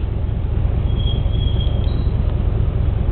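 A bus passes on the road, a loud steady low rumble with a faint high whine partway through, heard without talk.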